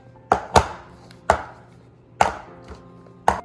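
A springform cake pan filled with Christmas fruit cake batter is tapped on a counter, giving five sharp, separate knocks spaced unevenly, close and fairly loud.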